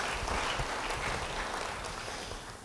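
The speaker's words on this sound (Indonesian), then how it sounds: "Beri tepuk tangan bagi Dia." Steady applause from a church congregation fills the space, a dense wash of many hands clapping at fairly even loudness that eases slightly toward the end, with no talk over it.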